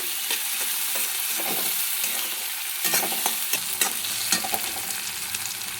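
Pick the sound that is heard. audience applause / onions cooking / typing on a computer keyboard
onions cooking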